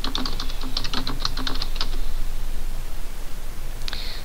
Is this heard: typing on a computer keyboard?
yes